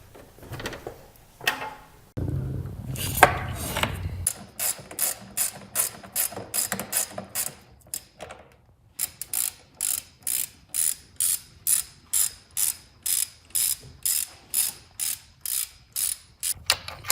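Ratchet wrench loosening nuts to remove an engine air cleaner box, working near and loud: a few scattered clicks first, then long runs of steady rapid ratcheting bursts with brief pauses between strokes.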